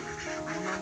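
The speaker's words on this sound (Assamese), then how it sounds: "আপোনালোককো এই হাঁহখিনি দেখুৱাম" Khaki Campbell ducks on a farm give a brief, close, nasal quack or two, heard alone without any talk.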